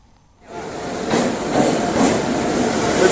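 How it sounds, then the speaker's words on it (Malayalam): A passenger train from Kanyakumari pulls into a station, its steady rumble swelling from quiet and holding loud and continuous. "ട്രെയിൻ ഇപ്പോൾ ഇവിടേക്ക് എത്തുന്നുണ്ട്."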